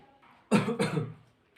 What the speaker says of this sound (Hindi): थोड़ा खांसी हो चुका है